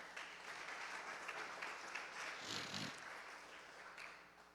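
A church congregation applauds during a Portuguese sermon, a fairly faint, steady patter of clapping from many hands across a large room, rising briefly in the middle before easing off.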